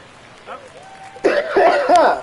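A person's cough during a live baseball video game stream, a short throaty burst with some voiced, speech-like sound mixed in, close to the microphone.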